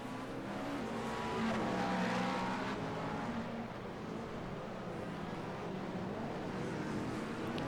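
Hypercars roar past on track in an IMSA racing simulator game, a sustained engine drone with rising and falling pitch as cars overtake, steady and moderately loud throughout.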